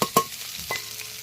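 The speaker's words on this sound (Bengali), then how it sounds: "দেখো পেঁয়াজটা ভাজা হোক," Chopped onion and garlic frying in a wok, added after cumin and a pinch of turmeric, with a sharp spatula scrape near the start and a softer stir later over a steady faint sizzle, no talking.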